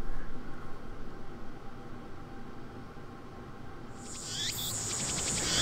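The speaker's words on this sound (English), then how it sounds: "Oh, the cicadas, they're so loud." Cicadas drone loudly in the Steins;Gate game, a continuous dense insect buzz filling the background throughout, with a brighter shrill chirring rising toward the end.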